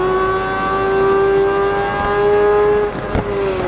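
A 2019 MV Brutale 1000 Serie Oro engine-brakes in the racing game RIDE 4 at the Nürburgring, a loud, close, high engine whine that slowly falls in pitch as the bike slows, ending with a sharp downshift.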